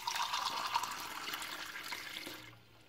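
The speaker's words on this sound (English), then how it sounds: "I'm going to add a cup of water to it" Water pours into a cooking pot of African traditional vegetables (sagaa) with a steady splashing gush for a couple of seconds, then stops abruptly.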